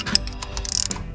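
A ratchet wrench tightens starter bolts on a John Deere 3020 tractor, a short close run of rapid metallic clicks lasting about a second.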